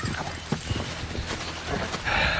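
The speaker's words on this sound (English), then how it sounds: "That's my best rope horse." A rope horse's hooves clip-clop in an uneven patter over a busy, rumbling background, fairly close.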